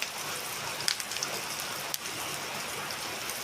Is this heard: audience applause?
no